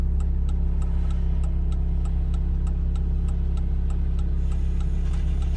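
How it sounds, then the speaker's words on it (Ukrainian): A steady, regular ticking of a car's left turn signal over the constant low hum of an idling engine inside the vehicle, during a driving exam. "зразу вмикаємо лівий покажчик повороту"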